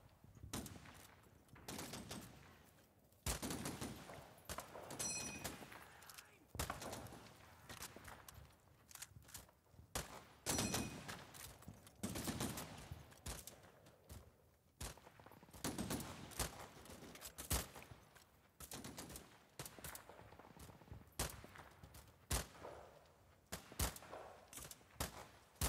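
Gunfire in the World War II strategy game Combat Mission Final Blitzkrieg, set on a December morning in the Black Forest: scattered sharp shots and short bursts, some close and loud, others distant, repeating irregularly throughout.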